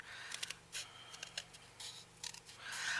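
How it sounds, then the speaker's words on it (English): Sharp scissors snipping through paper for journal envelope inserts: a series of quick, crisp cuts in irregular bursts, close and quiet. "These are some sharp scissors, people."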